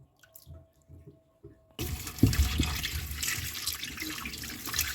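Beetroot is washed under running water, a steady close splash and rush of tap water that starts abruptly after a few faint knocks and handling sounds, with occasional louder splashes as the vegetable is rubbed.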